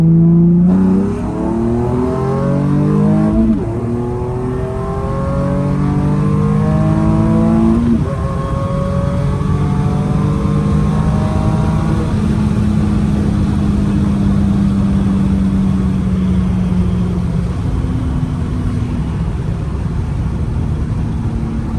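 A Nissan 370Z Nismo exhaust with art pipes roars up through repeated revs and gear changes, then settles into a steady, loud drone as the car cruises.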